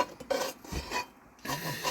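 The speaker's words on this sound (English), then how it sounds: "We're just going to fold it a couple of times in the pan." A spatula scrapes and rasps against a pan while folding a chanterelle omelet, with a few soft scraping strokes and light clinks, close and fairly quiet, no talking.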